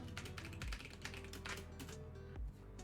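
Fast, continuous typing on a computer keyboard, quiet and close, with irregular bursts of key clacks and a couple of heavier thumps like the space bar or enter key.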